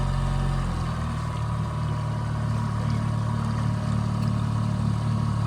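A skiff's boat engine runs close by with a steady, deep throbbing hum, idling evenly throughout.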